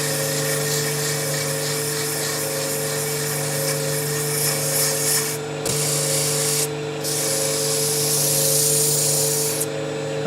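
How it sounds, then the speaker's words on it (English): Turned wooden piece being sanded on a spinning lathe, a steady close rubbing hiss over the motor's constant hum, continuous for the whole stretch with two brief dips, no voices. "I think it's a good time to do some more sanding"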